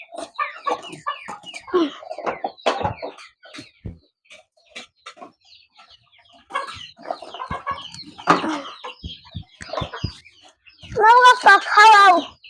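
Chickens cluck and call in bursts while being fed finely chopped grass on a farm, with people talking throughout and a louder burst of fowl calls near the end.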